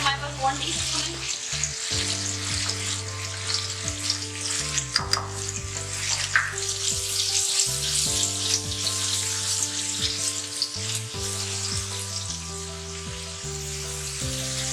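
Garlic fries in a pan, with a loud, steady sizzle that goes on throughout and occasional soft stirring clicks, and no talking.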